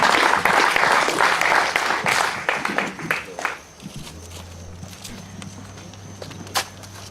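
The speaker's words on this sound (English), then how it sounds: "So guys, just give yourself a round of applause" Staff at a company meeting give themselves a round of applause, loud dense clapping that thins to scattered claps and fades out around halfway, leaving a low hum and a few late claps.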